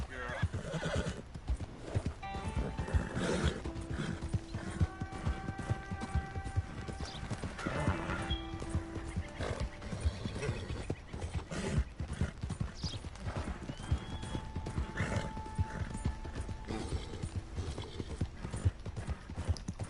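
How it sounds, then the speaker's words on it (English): Horse hooves clip-clop in a steady galloping rhythm through the Red Dead video game world, with a horse whinnying and neighing over the hoofbeats and bursts of game music in the background. "Horse sure can run."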